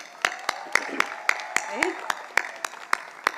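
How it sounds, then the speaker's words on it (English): An audience at MICA Ahmedabad's 30th convocation ceremony claps in steady unison, sharp evenly spaced beats repeating about four times a second, while a voice speaks over the rhythm. "perhaps we should give a big round of applause to MICA Minds"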